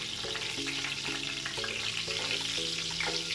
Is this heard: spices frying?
yes